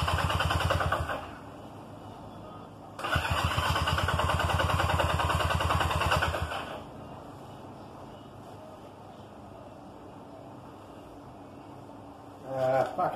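A Honda CB200 motorcycle engine fires on its first run, catching in two loud rough bursts with a pause between, then drops to a quieter uneven idle before another brief rev near the end.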